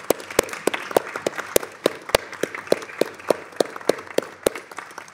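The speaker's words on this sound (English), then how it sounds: "Let's give her applause." Scattered, uneven hand claps from a small group at a committee meeting, sparse and irregular rather than a full ovation, fairly close.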